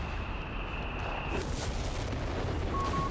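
An artillery barrage in the real-time strategy game Company of Heroes 3: a dense, continuous rumble of distant blasts and booms, with a brief tonal whistle at the start and another near the end.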